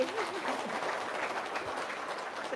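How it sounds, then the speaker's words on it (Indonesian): An indoor gathering applauds a doctor, faint but steady clapping from a modest crowd with a murmur of voices, continuous and at some distance. "Tepuk tangan dulu Dokter dong."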